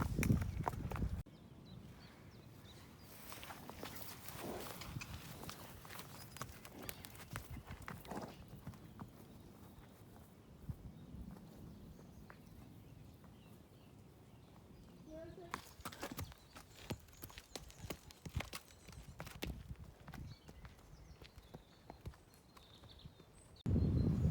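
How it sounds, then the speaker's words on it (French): Hooves clip-clop at a walking pace, with scattered footsteps and some talking over a rumbling outdoor background. "les chevaux qu'on a croisés tout à l'heure, ils nous foncent dessus"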